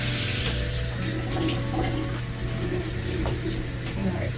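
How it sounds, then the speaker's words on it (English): Water poured into a potted plant, a steady close trickle and splash running continuously for a few seconds with no speech. "Alright, so I'll add a little bit of water to this one."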